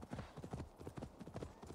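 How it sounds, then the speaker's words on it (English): Horse galloping in the video game Assassin's Creed Valhalla: rapid, rhythmic hoofbeats pound steadily and close throughout, with a faint rumble underneath. "Run, horsey, run!"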